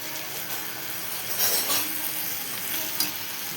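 Masala vegetables sauté in oil with a steady, moderately loud sizzle and frying crackle, broken by occasional stirring scrapes, with no voices.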